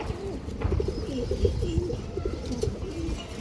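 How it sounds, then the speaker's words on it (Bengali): A large red-marked Choya Chandan female pigeon coos softly in repeated low rolling phrases over steady background noise, with no talking. "টকটকা লাল গিয়ারের ছোয়া চন্দন একটা মাদি কবুতর"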